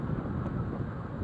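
Dry-season wind blows steadily along an outdoor village road, a soft, continuous rushing of air with light microphone buffeting and no talking.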